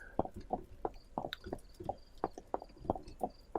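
A horse's hooves clip-clop in a virtual world game at a steady, even walking rhythm, close and moderately loud, with no talking over them.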